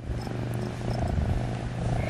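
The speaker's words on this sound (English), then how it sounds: "You hear him purring?" A white cat purrs steadily while being petted, a soft close rhythmic rumble that continues alone without talk.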